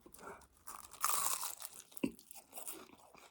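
Someone bites and chews a crispy-shelled pulled pork bing sandwich up close, sharp crunches followed by softer chewing, quiet and without talk.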